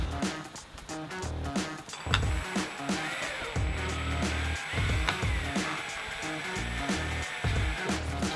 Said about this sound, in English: take your screws and screw them straight into the steel